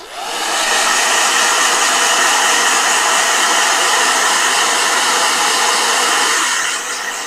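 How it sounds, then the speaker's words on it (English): A hair dryer blows steadily at close range, a loud continuous broadband whoosh that starts abruptly, holds for about six seconds, then shuts off near the end, with no voices. "Blow dryer."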